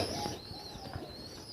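A domestic pigeon gives a soft, brief coo, faint and fairly close, against light background noise.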